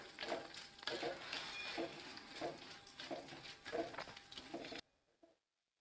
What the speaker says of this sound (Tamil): வெண்டைக்காயை வதக்க ஆரம்பிச்சிடலாம்